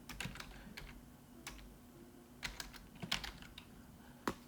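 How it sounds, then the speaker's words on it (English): Irregular bursts of keystrokes on a computer keyboard, clustered taps in quick runs separated by short pauses, close and fairly quiet with no talking. "as I'm typing it on my computer"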